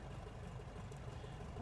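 Tiger Moth biplane engine idling in Microsoft Flight Simulator, a faint, steady low rumble with an even, unbroken drone throughout.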